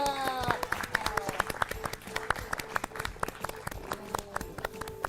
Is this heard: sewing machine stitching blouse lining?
no